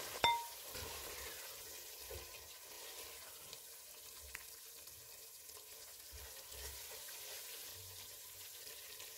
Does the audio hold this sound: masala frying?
yes